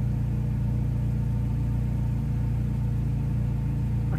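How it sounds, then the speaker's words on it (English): Peugeot 208 idling with its electric cooling fans running, a steady close-up drone and rumble of engine and fans holding constant without a break, with no talking. "I can definitely hear the fans running,"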